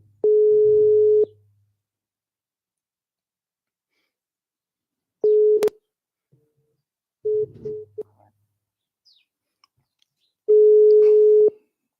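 A telephone line gives a few long, steady electronic tones, each about a second, separated by silent gaps with faint clicks and a short broken stretch of tone between them.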